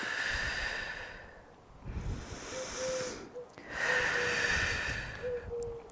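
Someone breathing in and out during a home Pilates workout: long, airy breaths swell and fade in a slow rhythm, close and fairly quiet, with a faint steady tone behind them.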